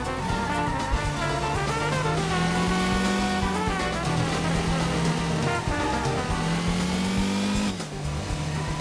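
Race car engines in the Dreamcast game Metropolis Street Racer drone continuously, a high revving whine that rises and falls in pitch as the cars accelerate, with soft jazz music underneath.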